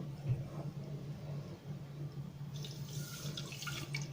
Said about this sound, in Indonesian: Tambahkan air 150 ml.